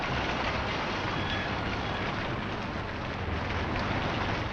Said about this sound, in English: The rain begins, small and hard.